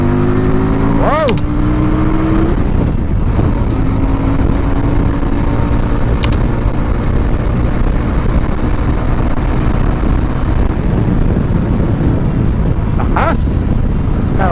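A QJ Motor SRV 400 cruiser motorcycle with a 400cc engine revs hard and accelerates, its loud, close engine roar rising and falling in pitch through several throttle sweeps, with faint voices underneath.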